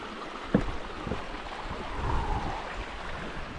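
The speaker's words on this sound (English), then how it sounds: "Nice little brook." A small wilderness brook flowing under a footbridge, a soft continuous trickle and rush at moderate distance with one light knock early on and no talking.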